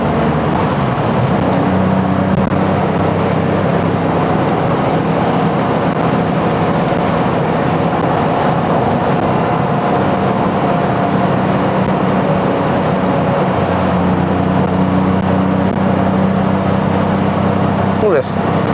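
A 1980s BMW E24 M6 running steadily on the road with smooth gear changes, its engine a continuous low drone under cabin and road noise, with a voice talking throughout.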